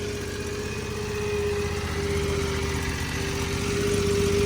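A new Predator small engine fitted to a farm machine with a hydraulic pump runs at a steady, buzzy drone, holding a constant pitch and loudness throughout, close and without talk.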